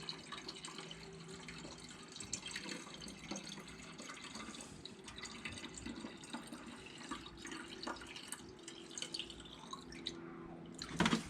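Water from a bleach bottle trickles and splashes into a shallow well pump to prime it, a continuous quiet pouring with drips, close by and ending in a brief gurgle.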